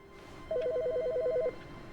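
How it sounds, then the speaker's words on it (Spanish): A telephone ringing in The Stanley Parable, one electronic warbling trill lasting about a second, clear and moderately loud over faint background. "¡Ey, teléfono!"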